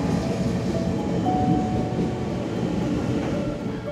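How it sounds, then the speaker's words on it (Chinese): A train rolls into Douliu station in Taiwan with a continuous, fairly loud rumble and faint rail clatter that holds steady throughout, with no talk. "火车的来了。"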